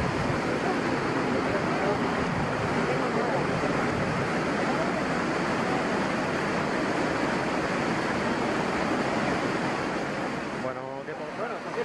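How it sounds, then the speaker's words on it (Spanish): Loud, continuous rush of a waterfall on a river, broad churning water noise close to the microphone with some wind buffeting, easing slightly toward the end where a voice briefly speaks. "hemos llegado a la primera cascada."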